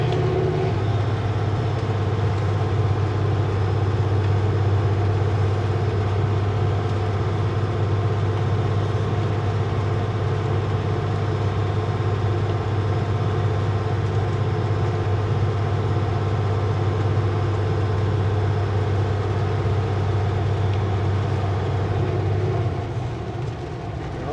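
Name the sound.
vehicle engine, automatic transmission upshifting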